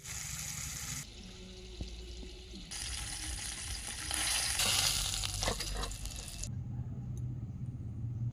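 Lata fish fry gently in oil in a pan, a steady close sizzle that swells louder in the middle and then drops back, with faint stirring clatter.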